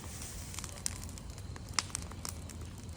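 A small outdoor bonfire of thin sticks crackles with scattered sharp pops over a steady low rumble, close by and moderately quiet, with no talk.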